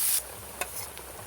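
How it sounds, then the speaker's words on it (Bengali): Onions frying in a pan, a brief hiss of sizzling with a sharp stirring scrape and a couple of light clicks, close and alone. "পেঁয়াজটা লাল লাল করে ভেজে নেব।"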